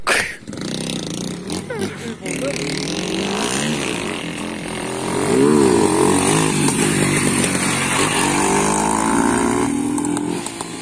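A motorcycle engine drones and revs continuously nearby, rising in pitch midway, with voices talking over it.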